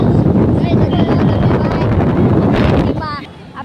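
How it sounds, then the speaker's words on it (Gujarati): Wind blows hard outdoors and buffets the microphone, a loud, continuous roar that eases off near the end. "જો મિત્રો અહીંયા હવા આવે જો"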